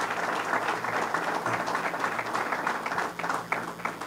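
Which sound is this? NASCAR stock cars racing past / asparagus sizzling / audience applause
audience applause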